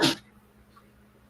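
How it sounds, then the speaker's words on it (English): A single sharp human sneeze bursts out loud and close at the start, then fades into quiet room tone with a faint low hum. "Who sneezed?"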